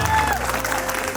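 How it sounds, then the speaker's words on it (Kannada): Audience applause at a Kannada Rajyotsava cultural festival stage event, a steady dense wash of clapping that fills the whole moment, loud and close, with no voices over it. "ಚಪ್ಪಾಳೆ."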